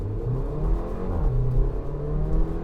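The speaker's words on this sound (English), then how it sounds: "Exhaust note sounds really nice, especially as you go through the RPMs" A 2021 Porsche Macan accelerating, a deep rumbling exhaust note with engine pitch climbing and dropping through gear changes, steady and fairly loud from inside the car, no talking.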